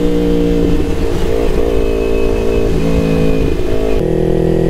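Motorcycle fitted with an R9 aftermarket exhaust revving loud and close, the engine note rising and falling in steady pulses without a break, no talk over it.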